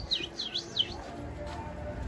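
Birds in a pigeon loft give a run of three quick, high chirping calls, then fainter activity and low background rumble, fairly quiet.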